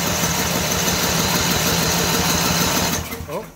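A Simplicity snow blower engine, choked and restarted, runs with a steady loud mechanical drone for about three seconds, then falters and drops away near the end, leaving a brief quieter tail.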